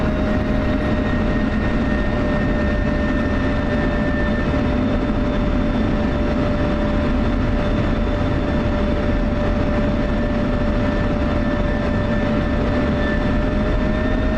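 In a flight simulator game, an F-16 jet's engine gives a loud, steady roar with a constant tonal whine, unbroken for the whole stretch.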